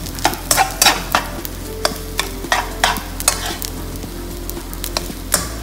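Egg fried rice stirred constantly in a hot pan, the utensil scraping in repeated close strokes over a continuous sizzle.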